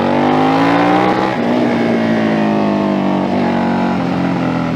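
A 2011 KTM RC8 R sport motorcycle engine runs loud and close, its pitch rising in a rev and then settling into a steady, slightly falling drone, with no speech over it.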